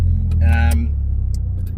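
Deep engine and exhaust rumble from a Nissan S14 with an ARC titanium exhaust, heard from inside the car, steady and close, with a brief rise in tone early on.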